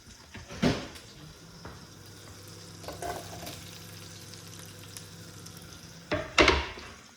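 Butter melting and onions frying in a pan, a soft steady sizzle with clatters of stirring near the start and end, no talk.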